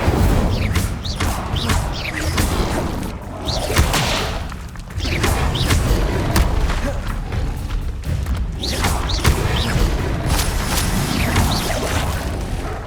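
Incendio fire spell cast during combat in Hogwarts Legacy, a dense, loud run of whooshing bursts, booms and thuds that repeat almost without pause.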